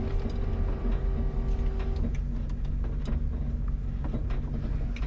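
A failing car engine labors while the vehicle rolls, producing a rough, droning mechanical noise with irregular knocks and clatters, steady and fairly loud from inside the car.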